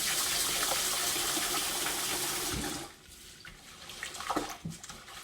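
Water pours steadily over rice in a bowl for a few seconds, then stops, followed by softer splashes and sloshing as the rice is washed.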